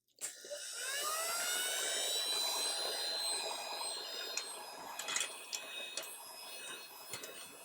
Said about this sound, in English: I'm going to go ahead and take this PYD Life heat gun, and I'm just going to put it on a low heat